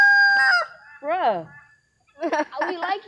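A rooster crows loudly and close by, with a few crowing calls and clucks in quick succession.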